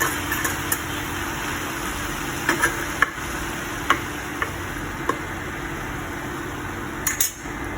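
Eggplant frying in a pan with a constant low sizzle, broken by sharp, irregular clicks and scrapes as a spatula stirs the pieces; close by and without speech.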